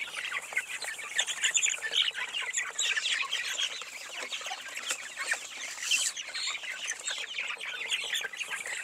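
Free-range chickens cluck and chirp continuously at a moderate distance, a busy overlapping chorus of short calls with no people talking.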